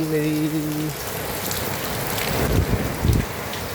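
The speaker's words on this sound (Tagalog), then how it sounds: "Ayan guys, lumakas na yung ulan." Heavy rain pouring steadily in a dense, hissing wash, with a brief low hum at the start and a couple of louder splashes near the end.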